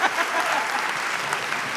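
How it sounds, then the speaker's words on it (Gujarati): A studio audience gives a steady burst of applause for the Gor siblings, Naman and Pooja, on a Gujarati comedy talk show, dense clapping held at an even level throughout. "તો ગોર સિબલિંગ્સ માટે એક વખત જોરદાર તાળીઓ થઈ જાય"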